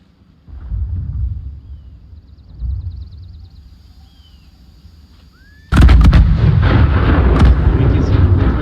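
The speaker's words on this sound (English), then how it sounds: "We can see the movement guns shooting with shells, explosive shells here." Artillery guns in the Fall of the Samurai strategy game firing explosive shells, a loud dense barrage of booming shots and blasts that swells suddenly after quieter distant rumbles.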